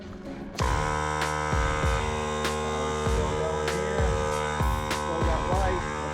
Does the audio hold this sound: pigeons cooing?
no